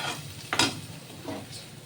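Stuffed gaja pastry fries in oil in a kadai, a soft sizzle running under light stirring and a couple of quick scraping taps, close and fairly quiet.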